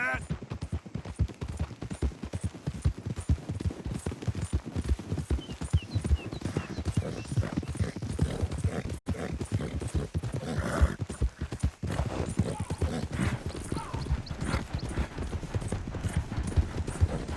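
A horse gallops in Red Dead Redemption 2, with rapid, steady clip-clop hoofbeats running throughout, a whinny partway through, and speech heard over the hooves.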